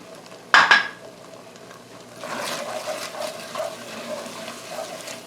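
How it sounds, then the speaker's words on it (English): Stirring pearl barley risotto in a pot with spinach sauce, a sharp metallic clank of a utensil against the pot, then a stretch of wet, sloshing stirring and scraping, close and moderately loud. "Let me just give that a stir"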